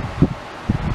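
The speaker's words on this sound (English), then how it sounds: "I apologize for that whooshing noise you probably hear. It is my" An electric fan in a bedroom gives a soft whooshing rush with two brief louder gusts, close to the microphone and without speech.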